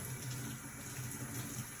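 Tap water runs steadily into a bowl, filled to a cool or lukewarm temperature for blocking, a continuous close hiss and splash with no talking.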